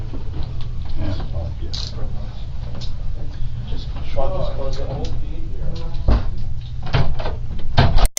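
A door swings shut with a solid thud near the end of a short stretch of steady background murmur, preceded by another soft knock, while people talk throughout.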